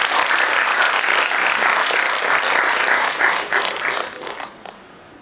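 Steady applause from an audience at a Delhi criminal justice event welcoming a High Court judge, dense and continuous, gradually thinning and fading out near the end.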